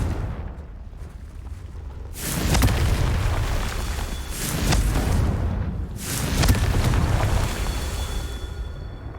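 In the Hogwarts Legacy video game, the Confringo blasting spell sets off three heavy, booming explosions, each a deep rumbling blast that swells and slowly fades, loud and close with no talk.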